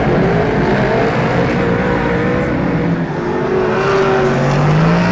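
Superstock race cars roar around a speedway track at night during a Grand Prix meeting in Wanganui, New Zealand, a loud continuous engine drone with rising and falling pitches as cars pass, with no voices.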